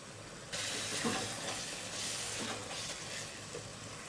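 Onion and tomato masala with salt is stirred in a pan. It sizzles softly and steadily as a spoon scrapes and turns the mixture, quiet and close with no talking.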